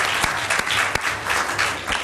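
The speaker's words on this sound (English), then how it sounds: "we should give our panelists a second round of applause" A conference audience applauds its panelists with steady, dense clapping that fills the room for a couple of seconds, with no voices over it.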